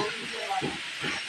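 Onions hit a hot pan in a hotel kitchen where masoor dal is being cooked in bulk, giving a steady, close, broadband sizzle and hiss throughout the short moment.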